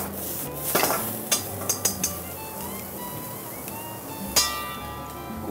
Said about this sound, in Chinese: 再把它炒香